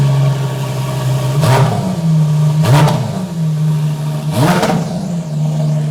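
Car engine fitted with a JCR exhaust, idling with a steady low drone, then blipped three times in quick revs that rise and fall, loud and close with no talking.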